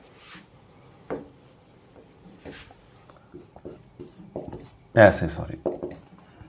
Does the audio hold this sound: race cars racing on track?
no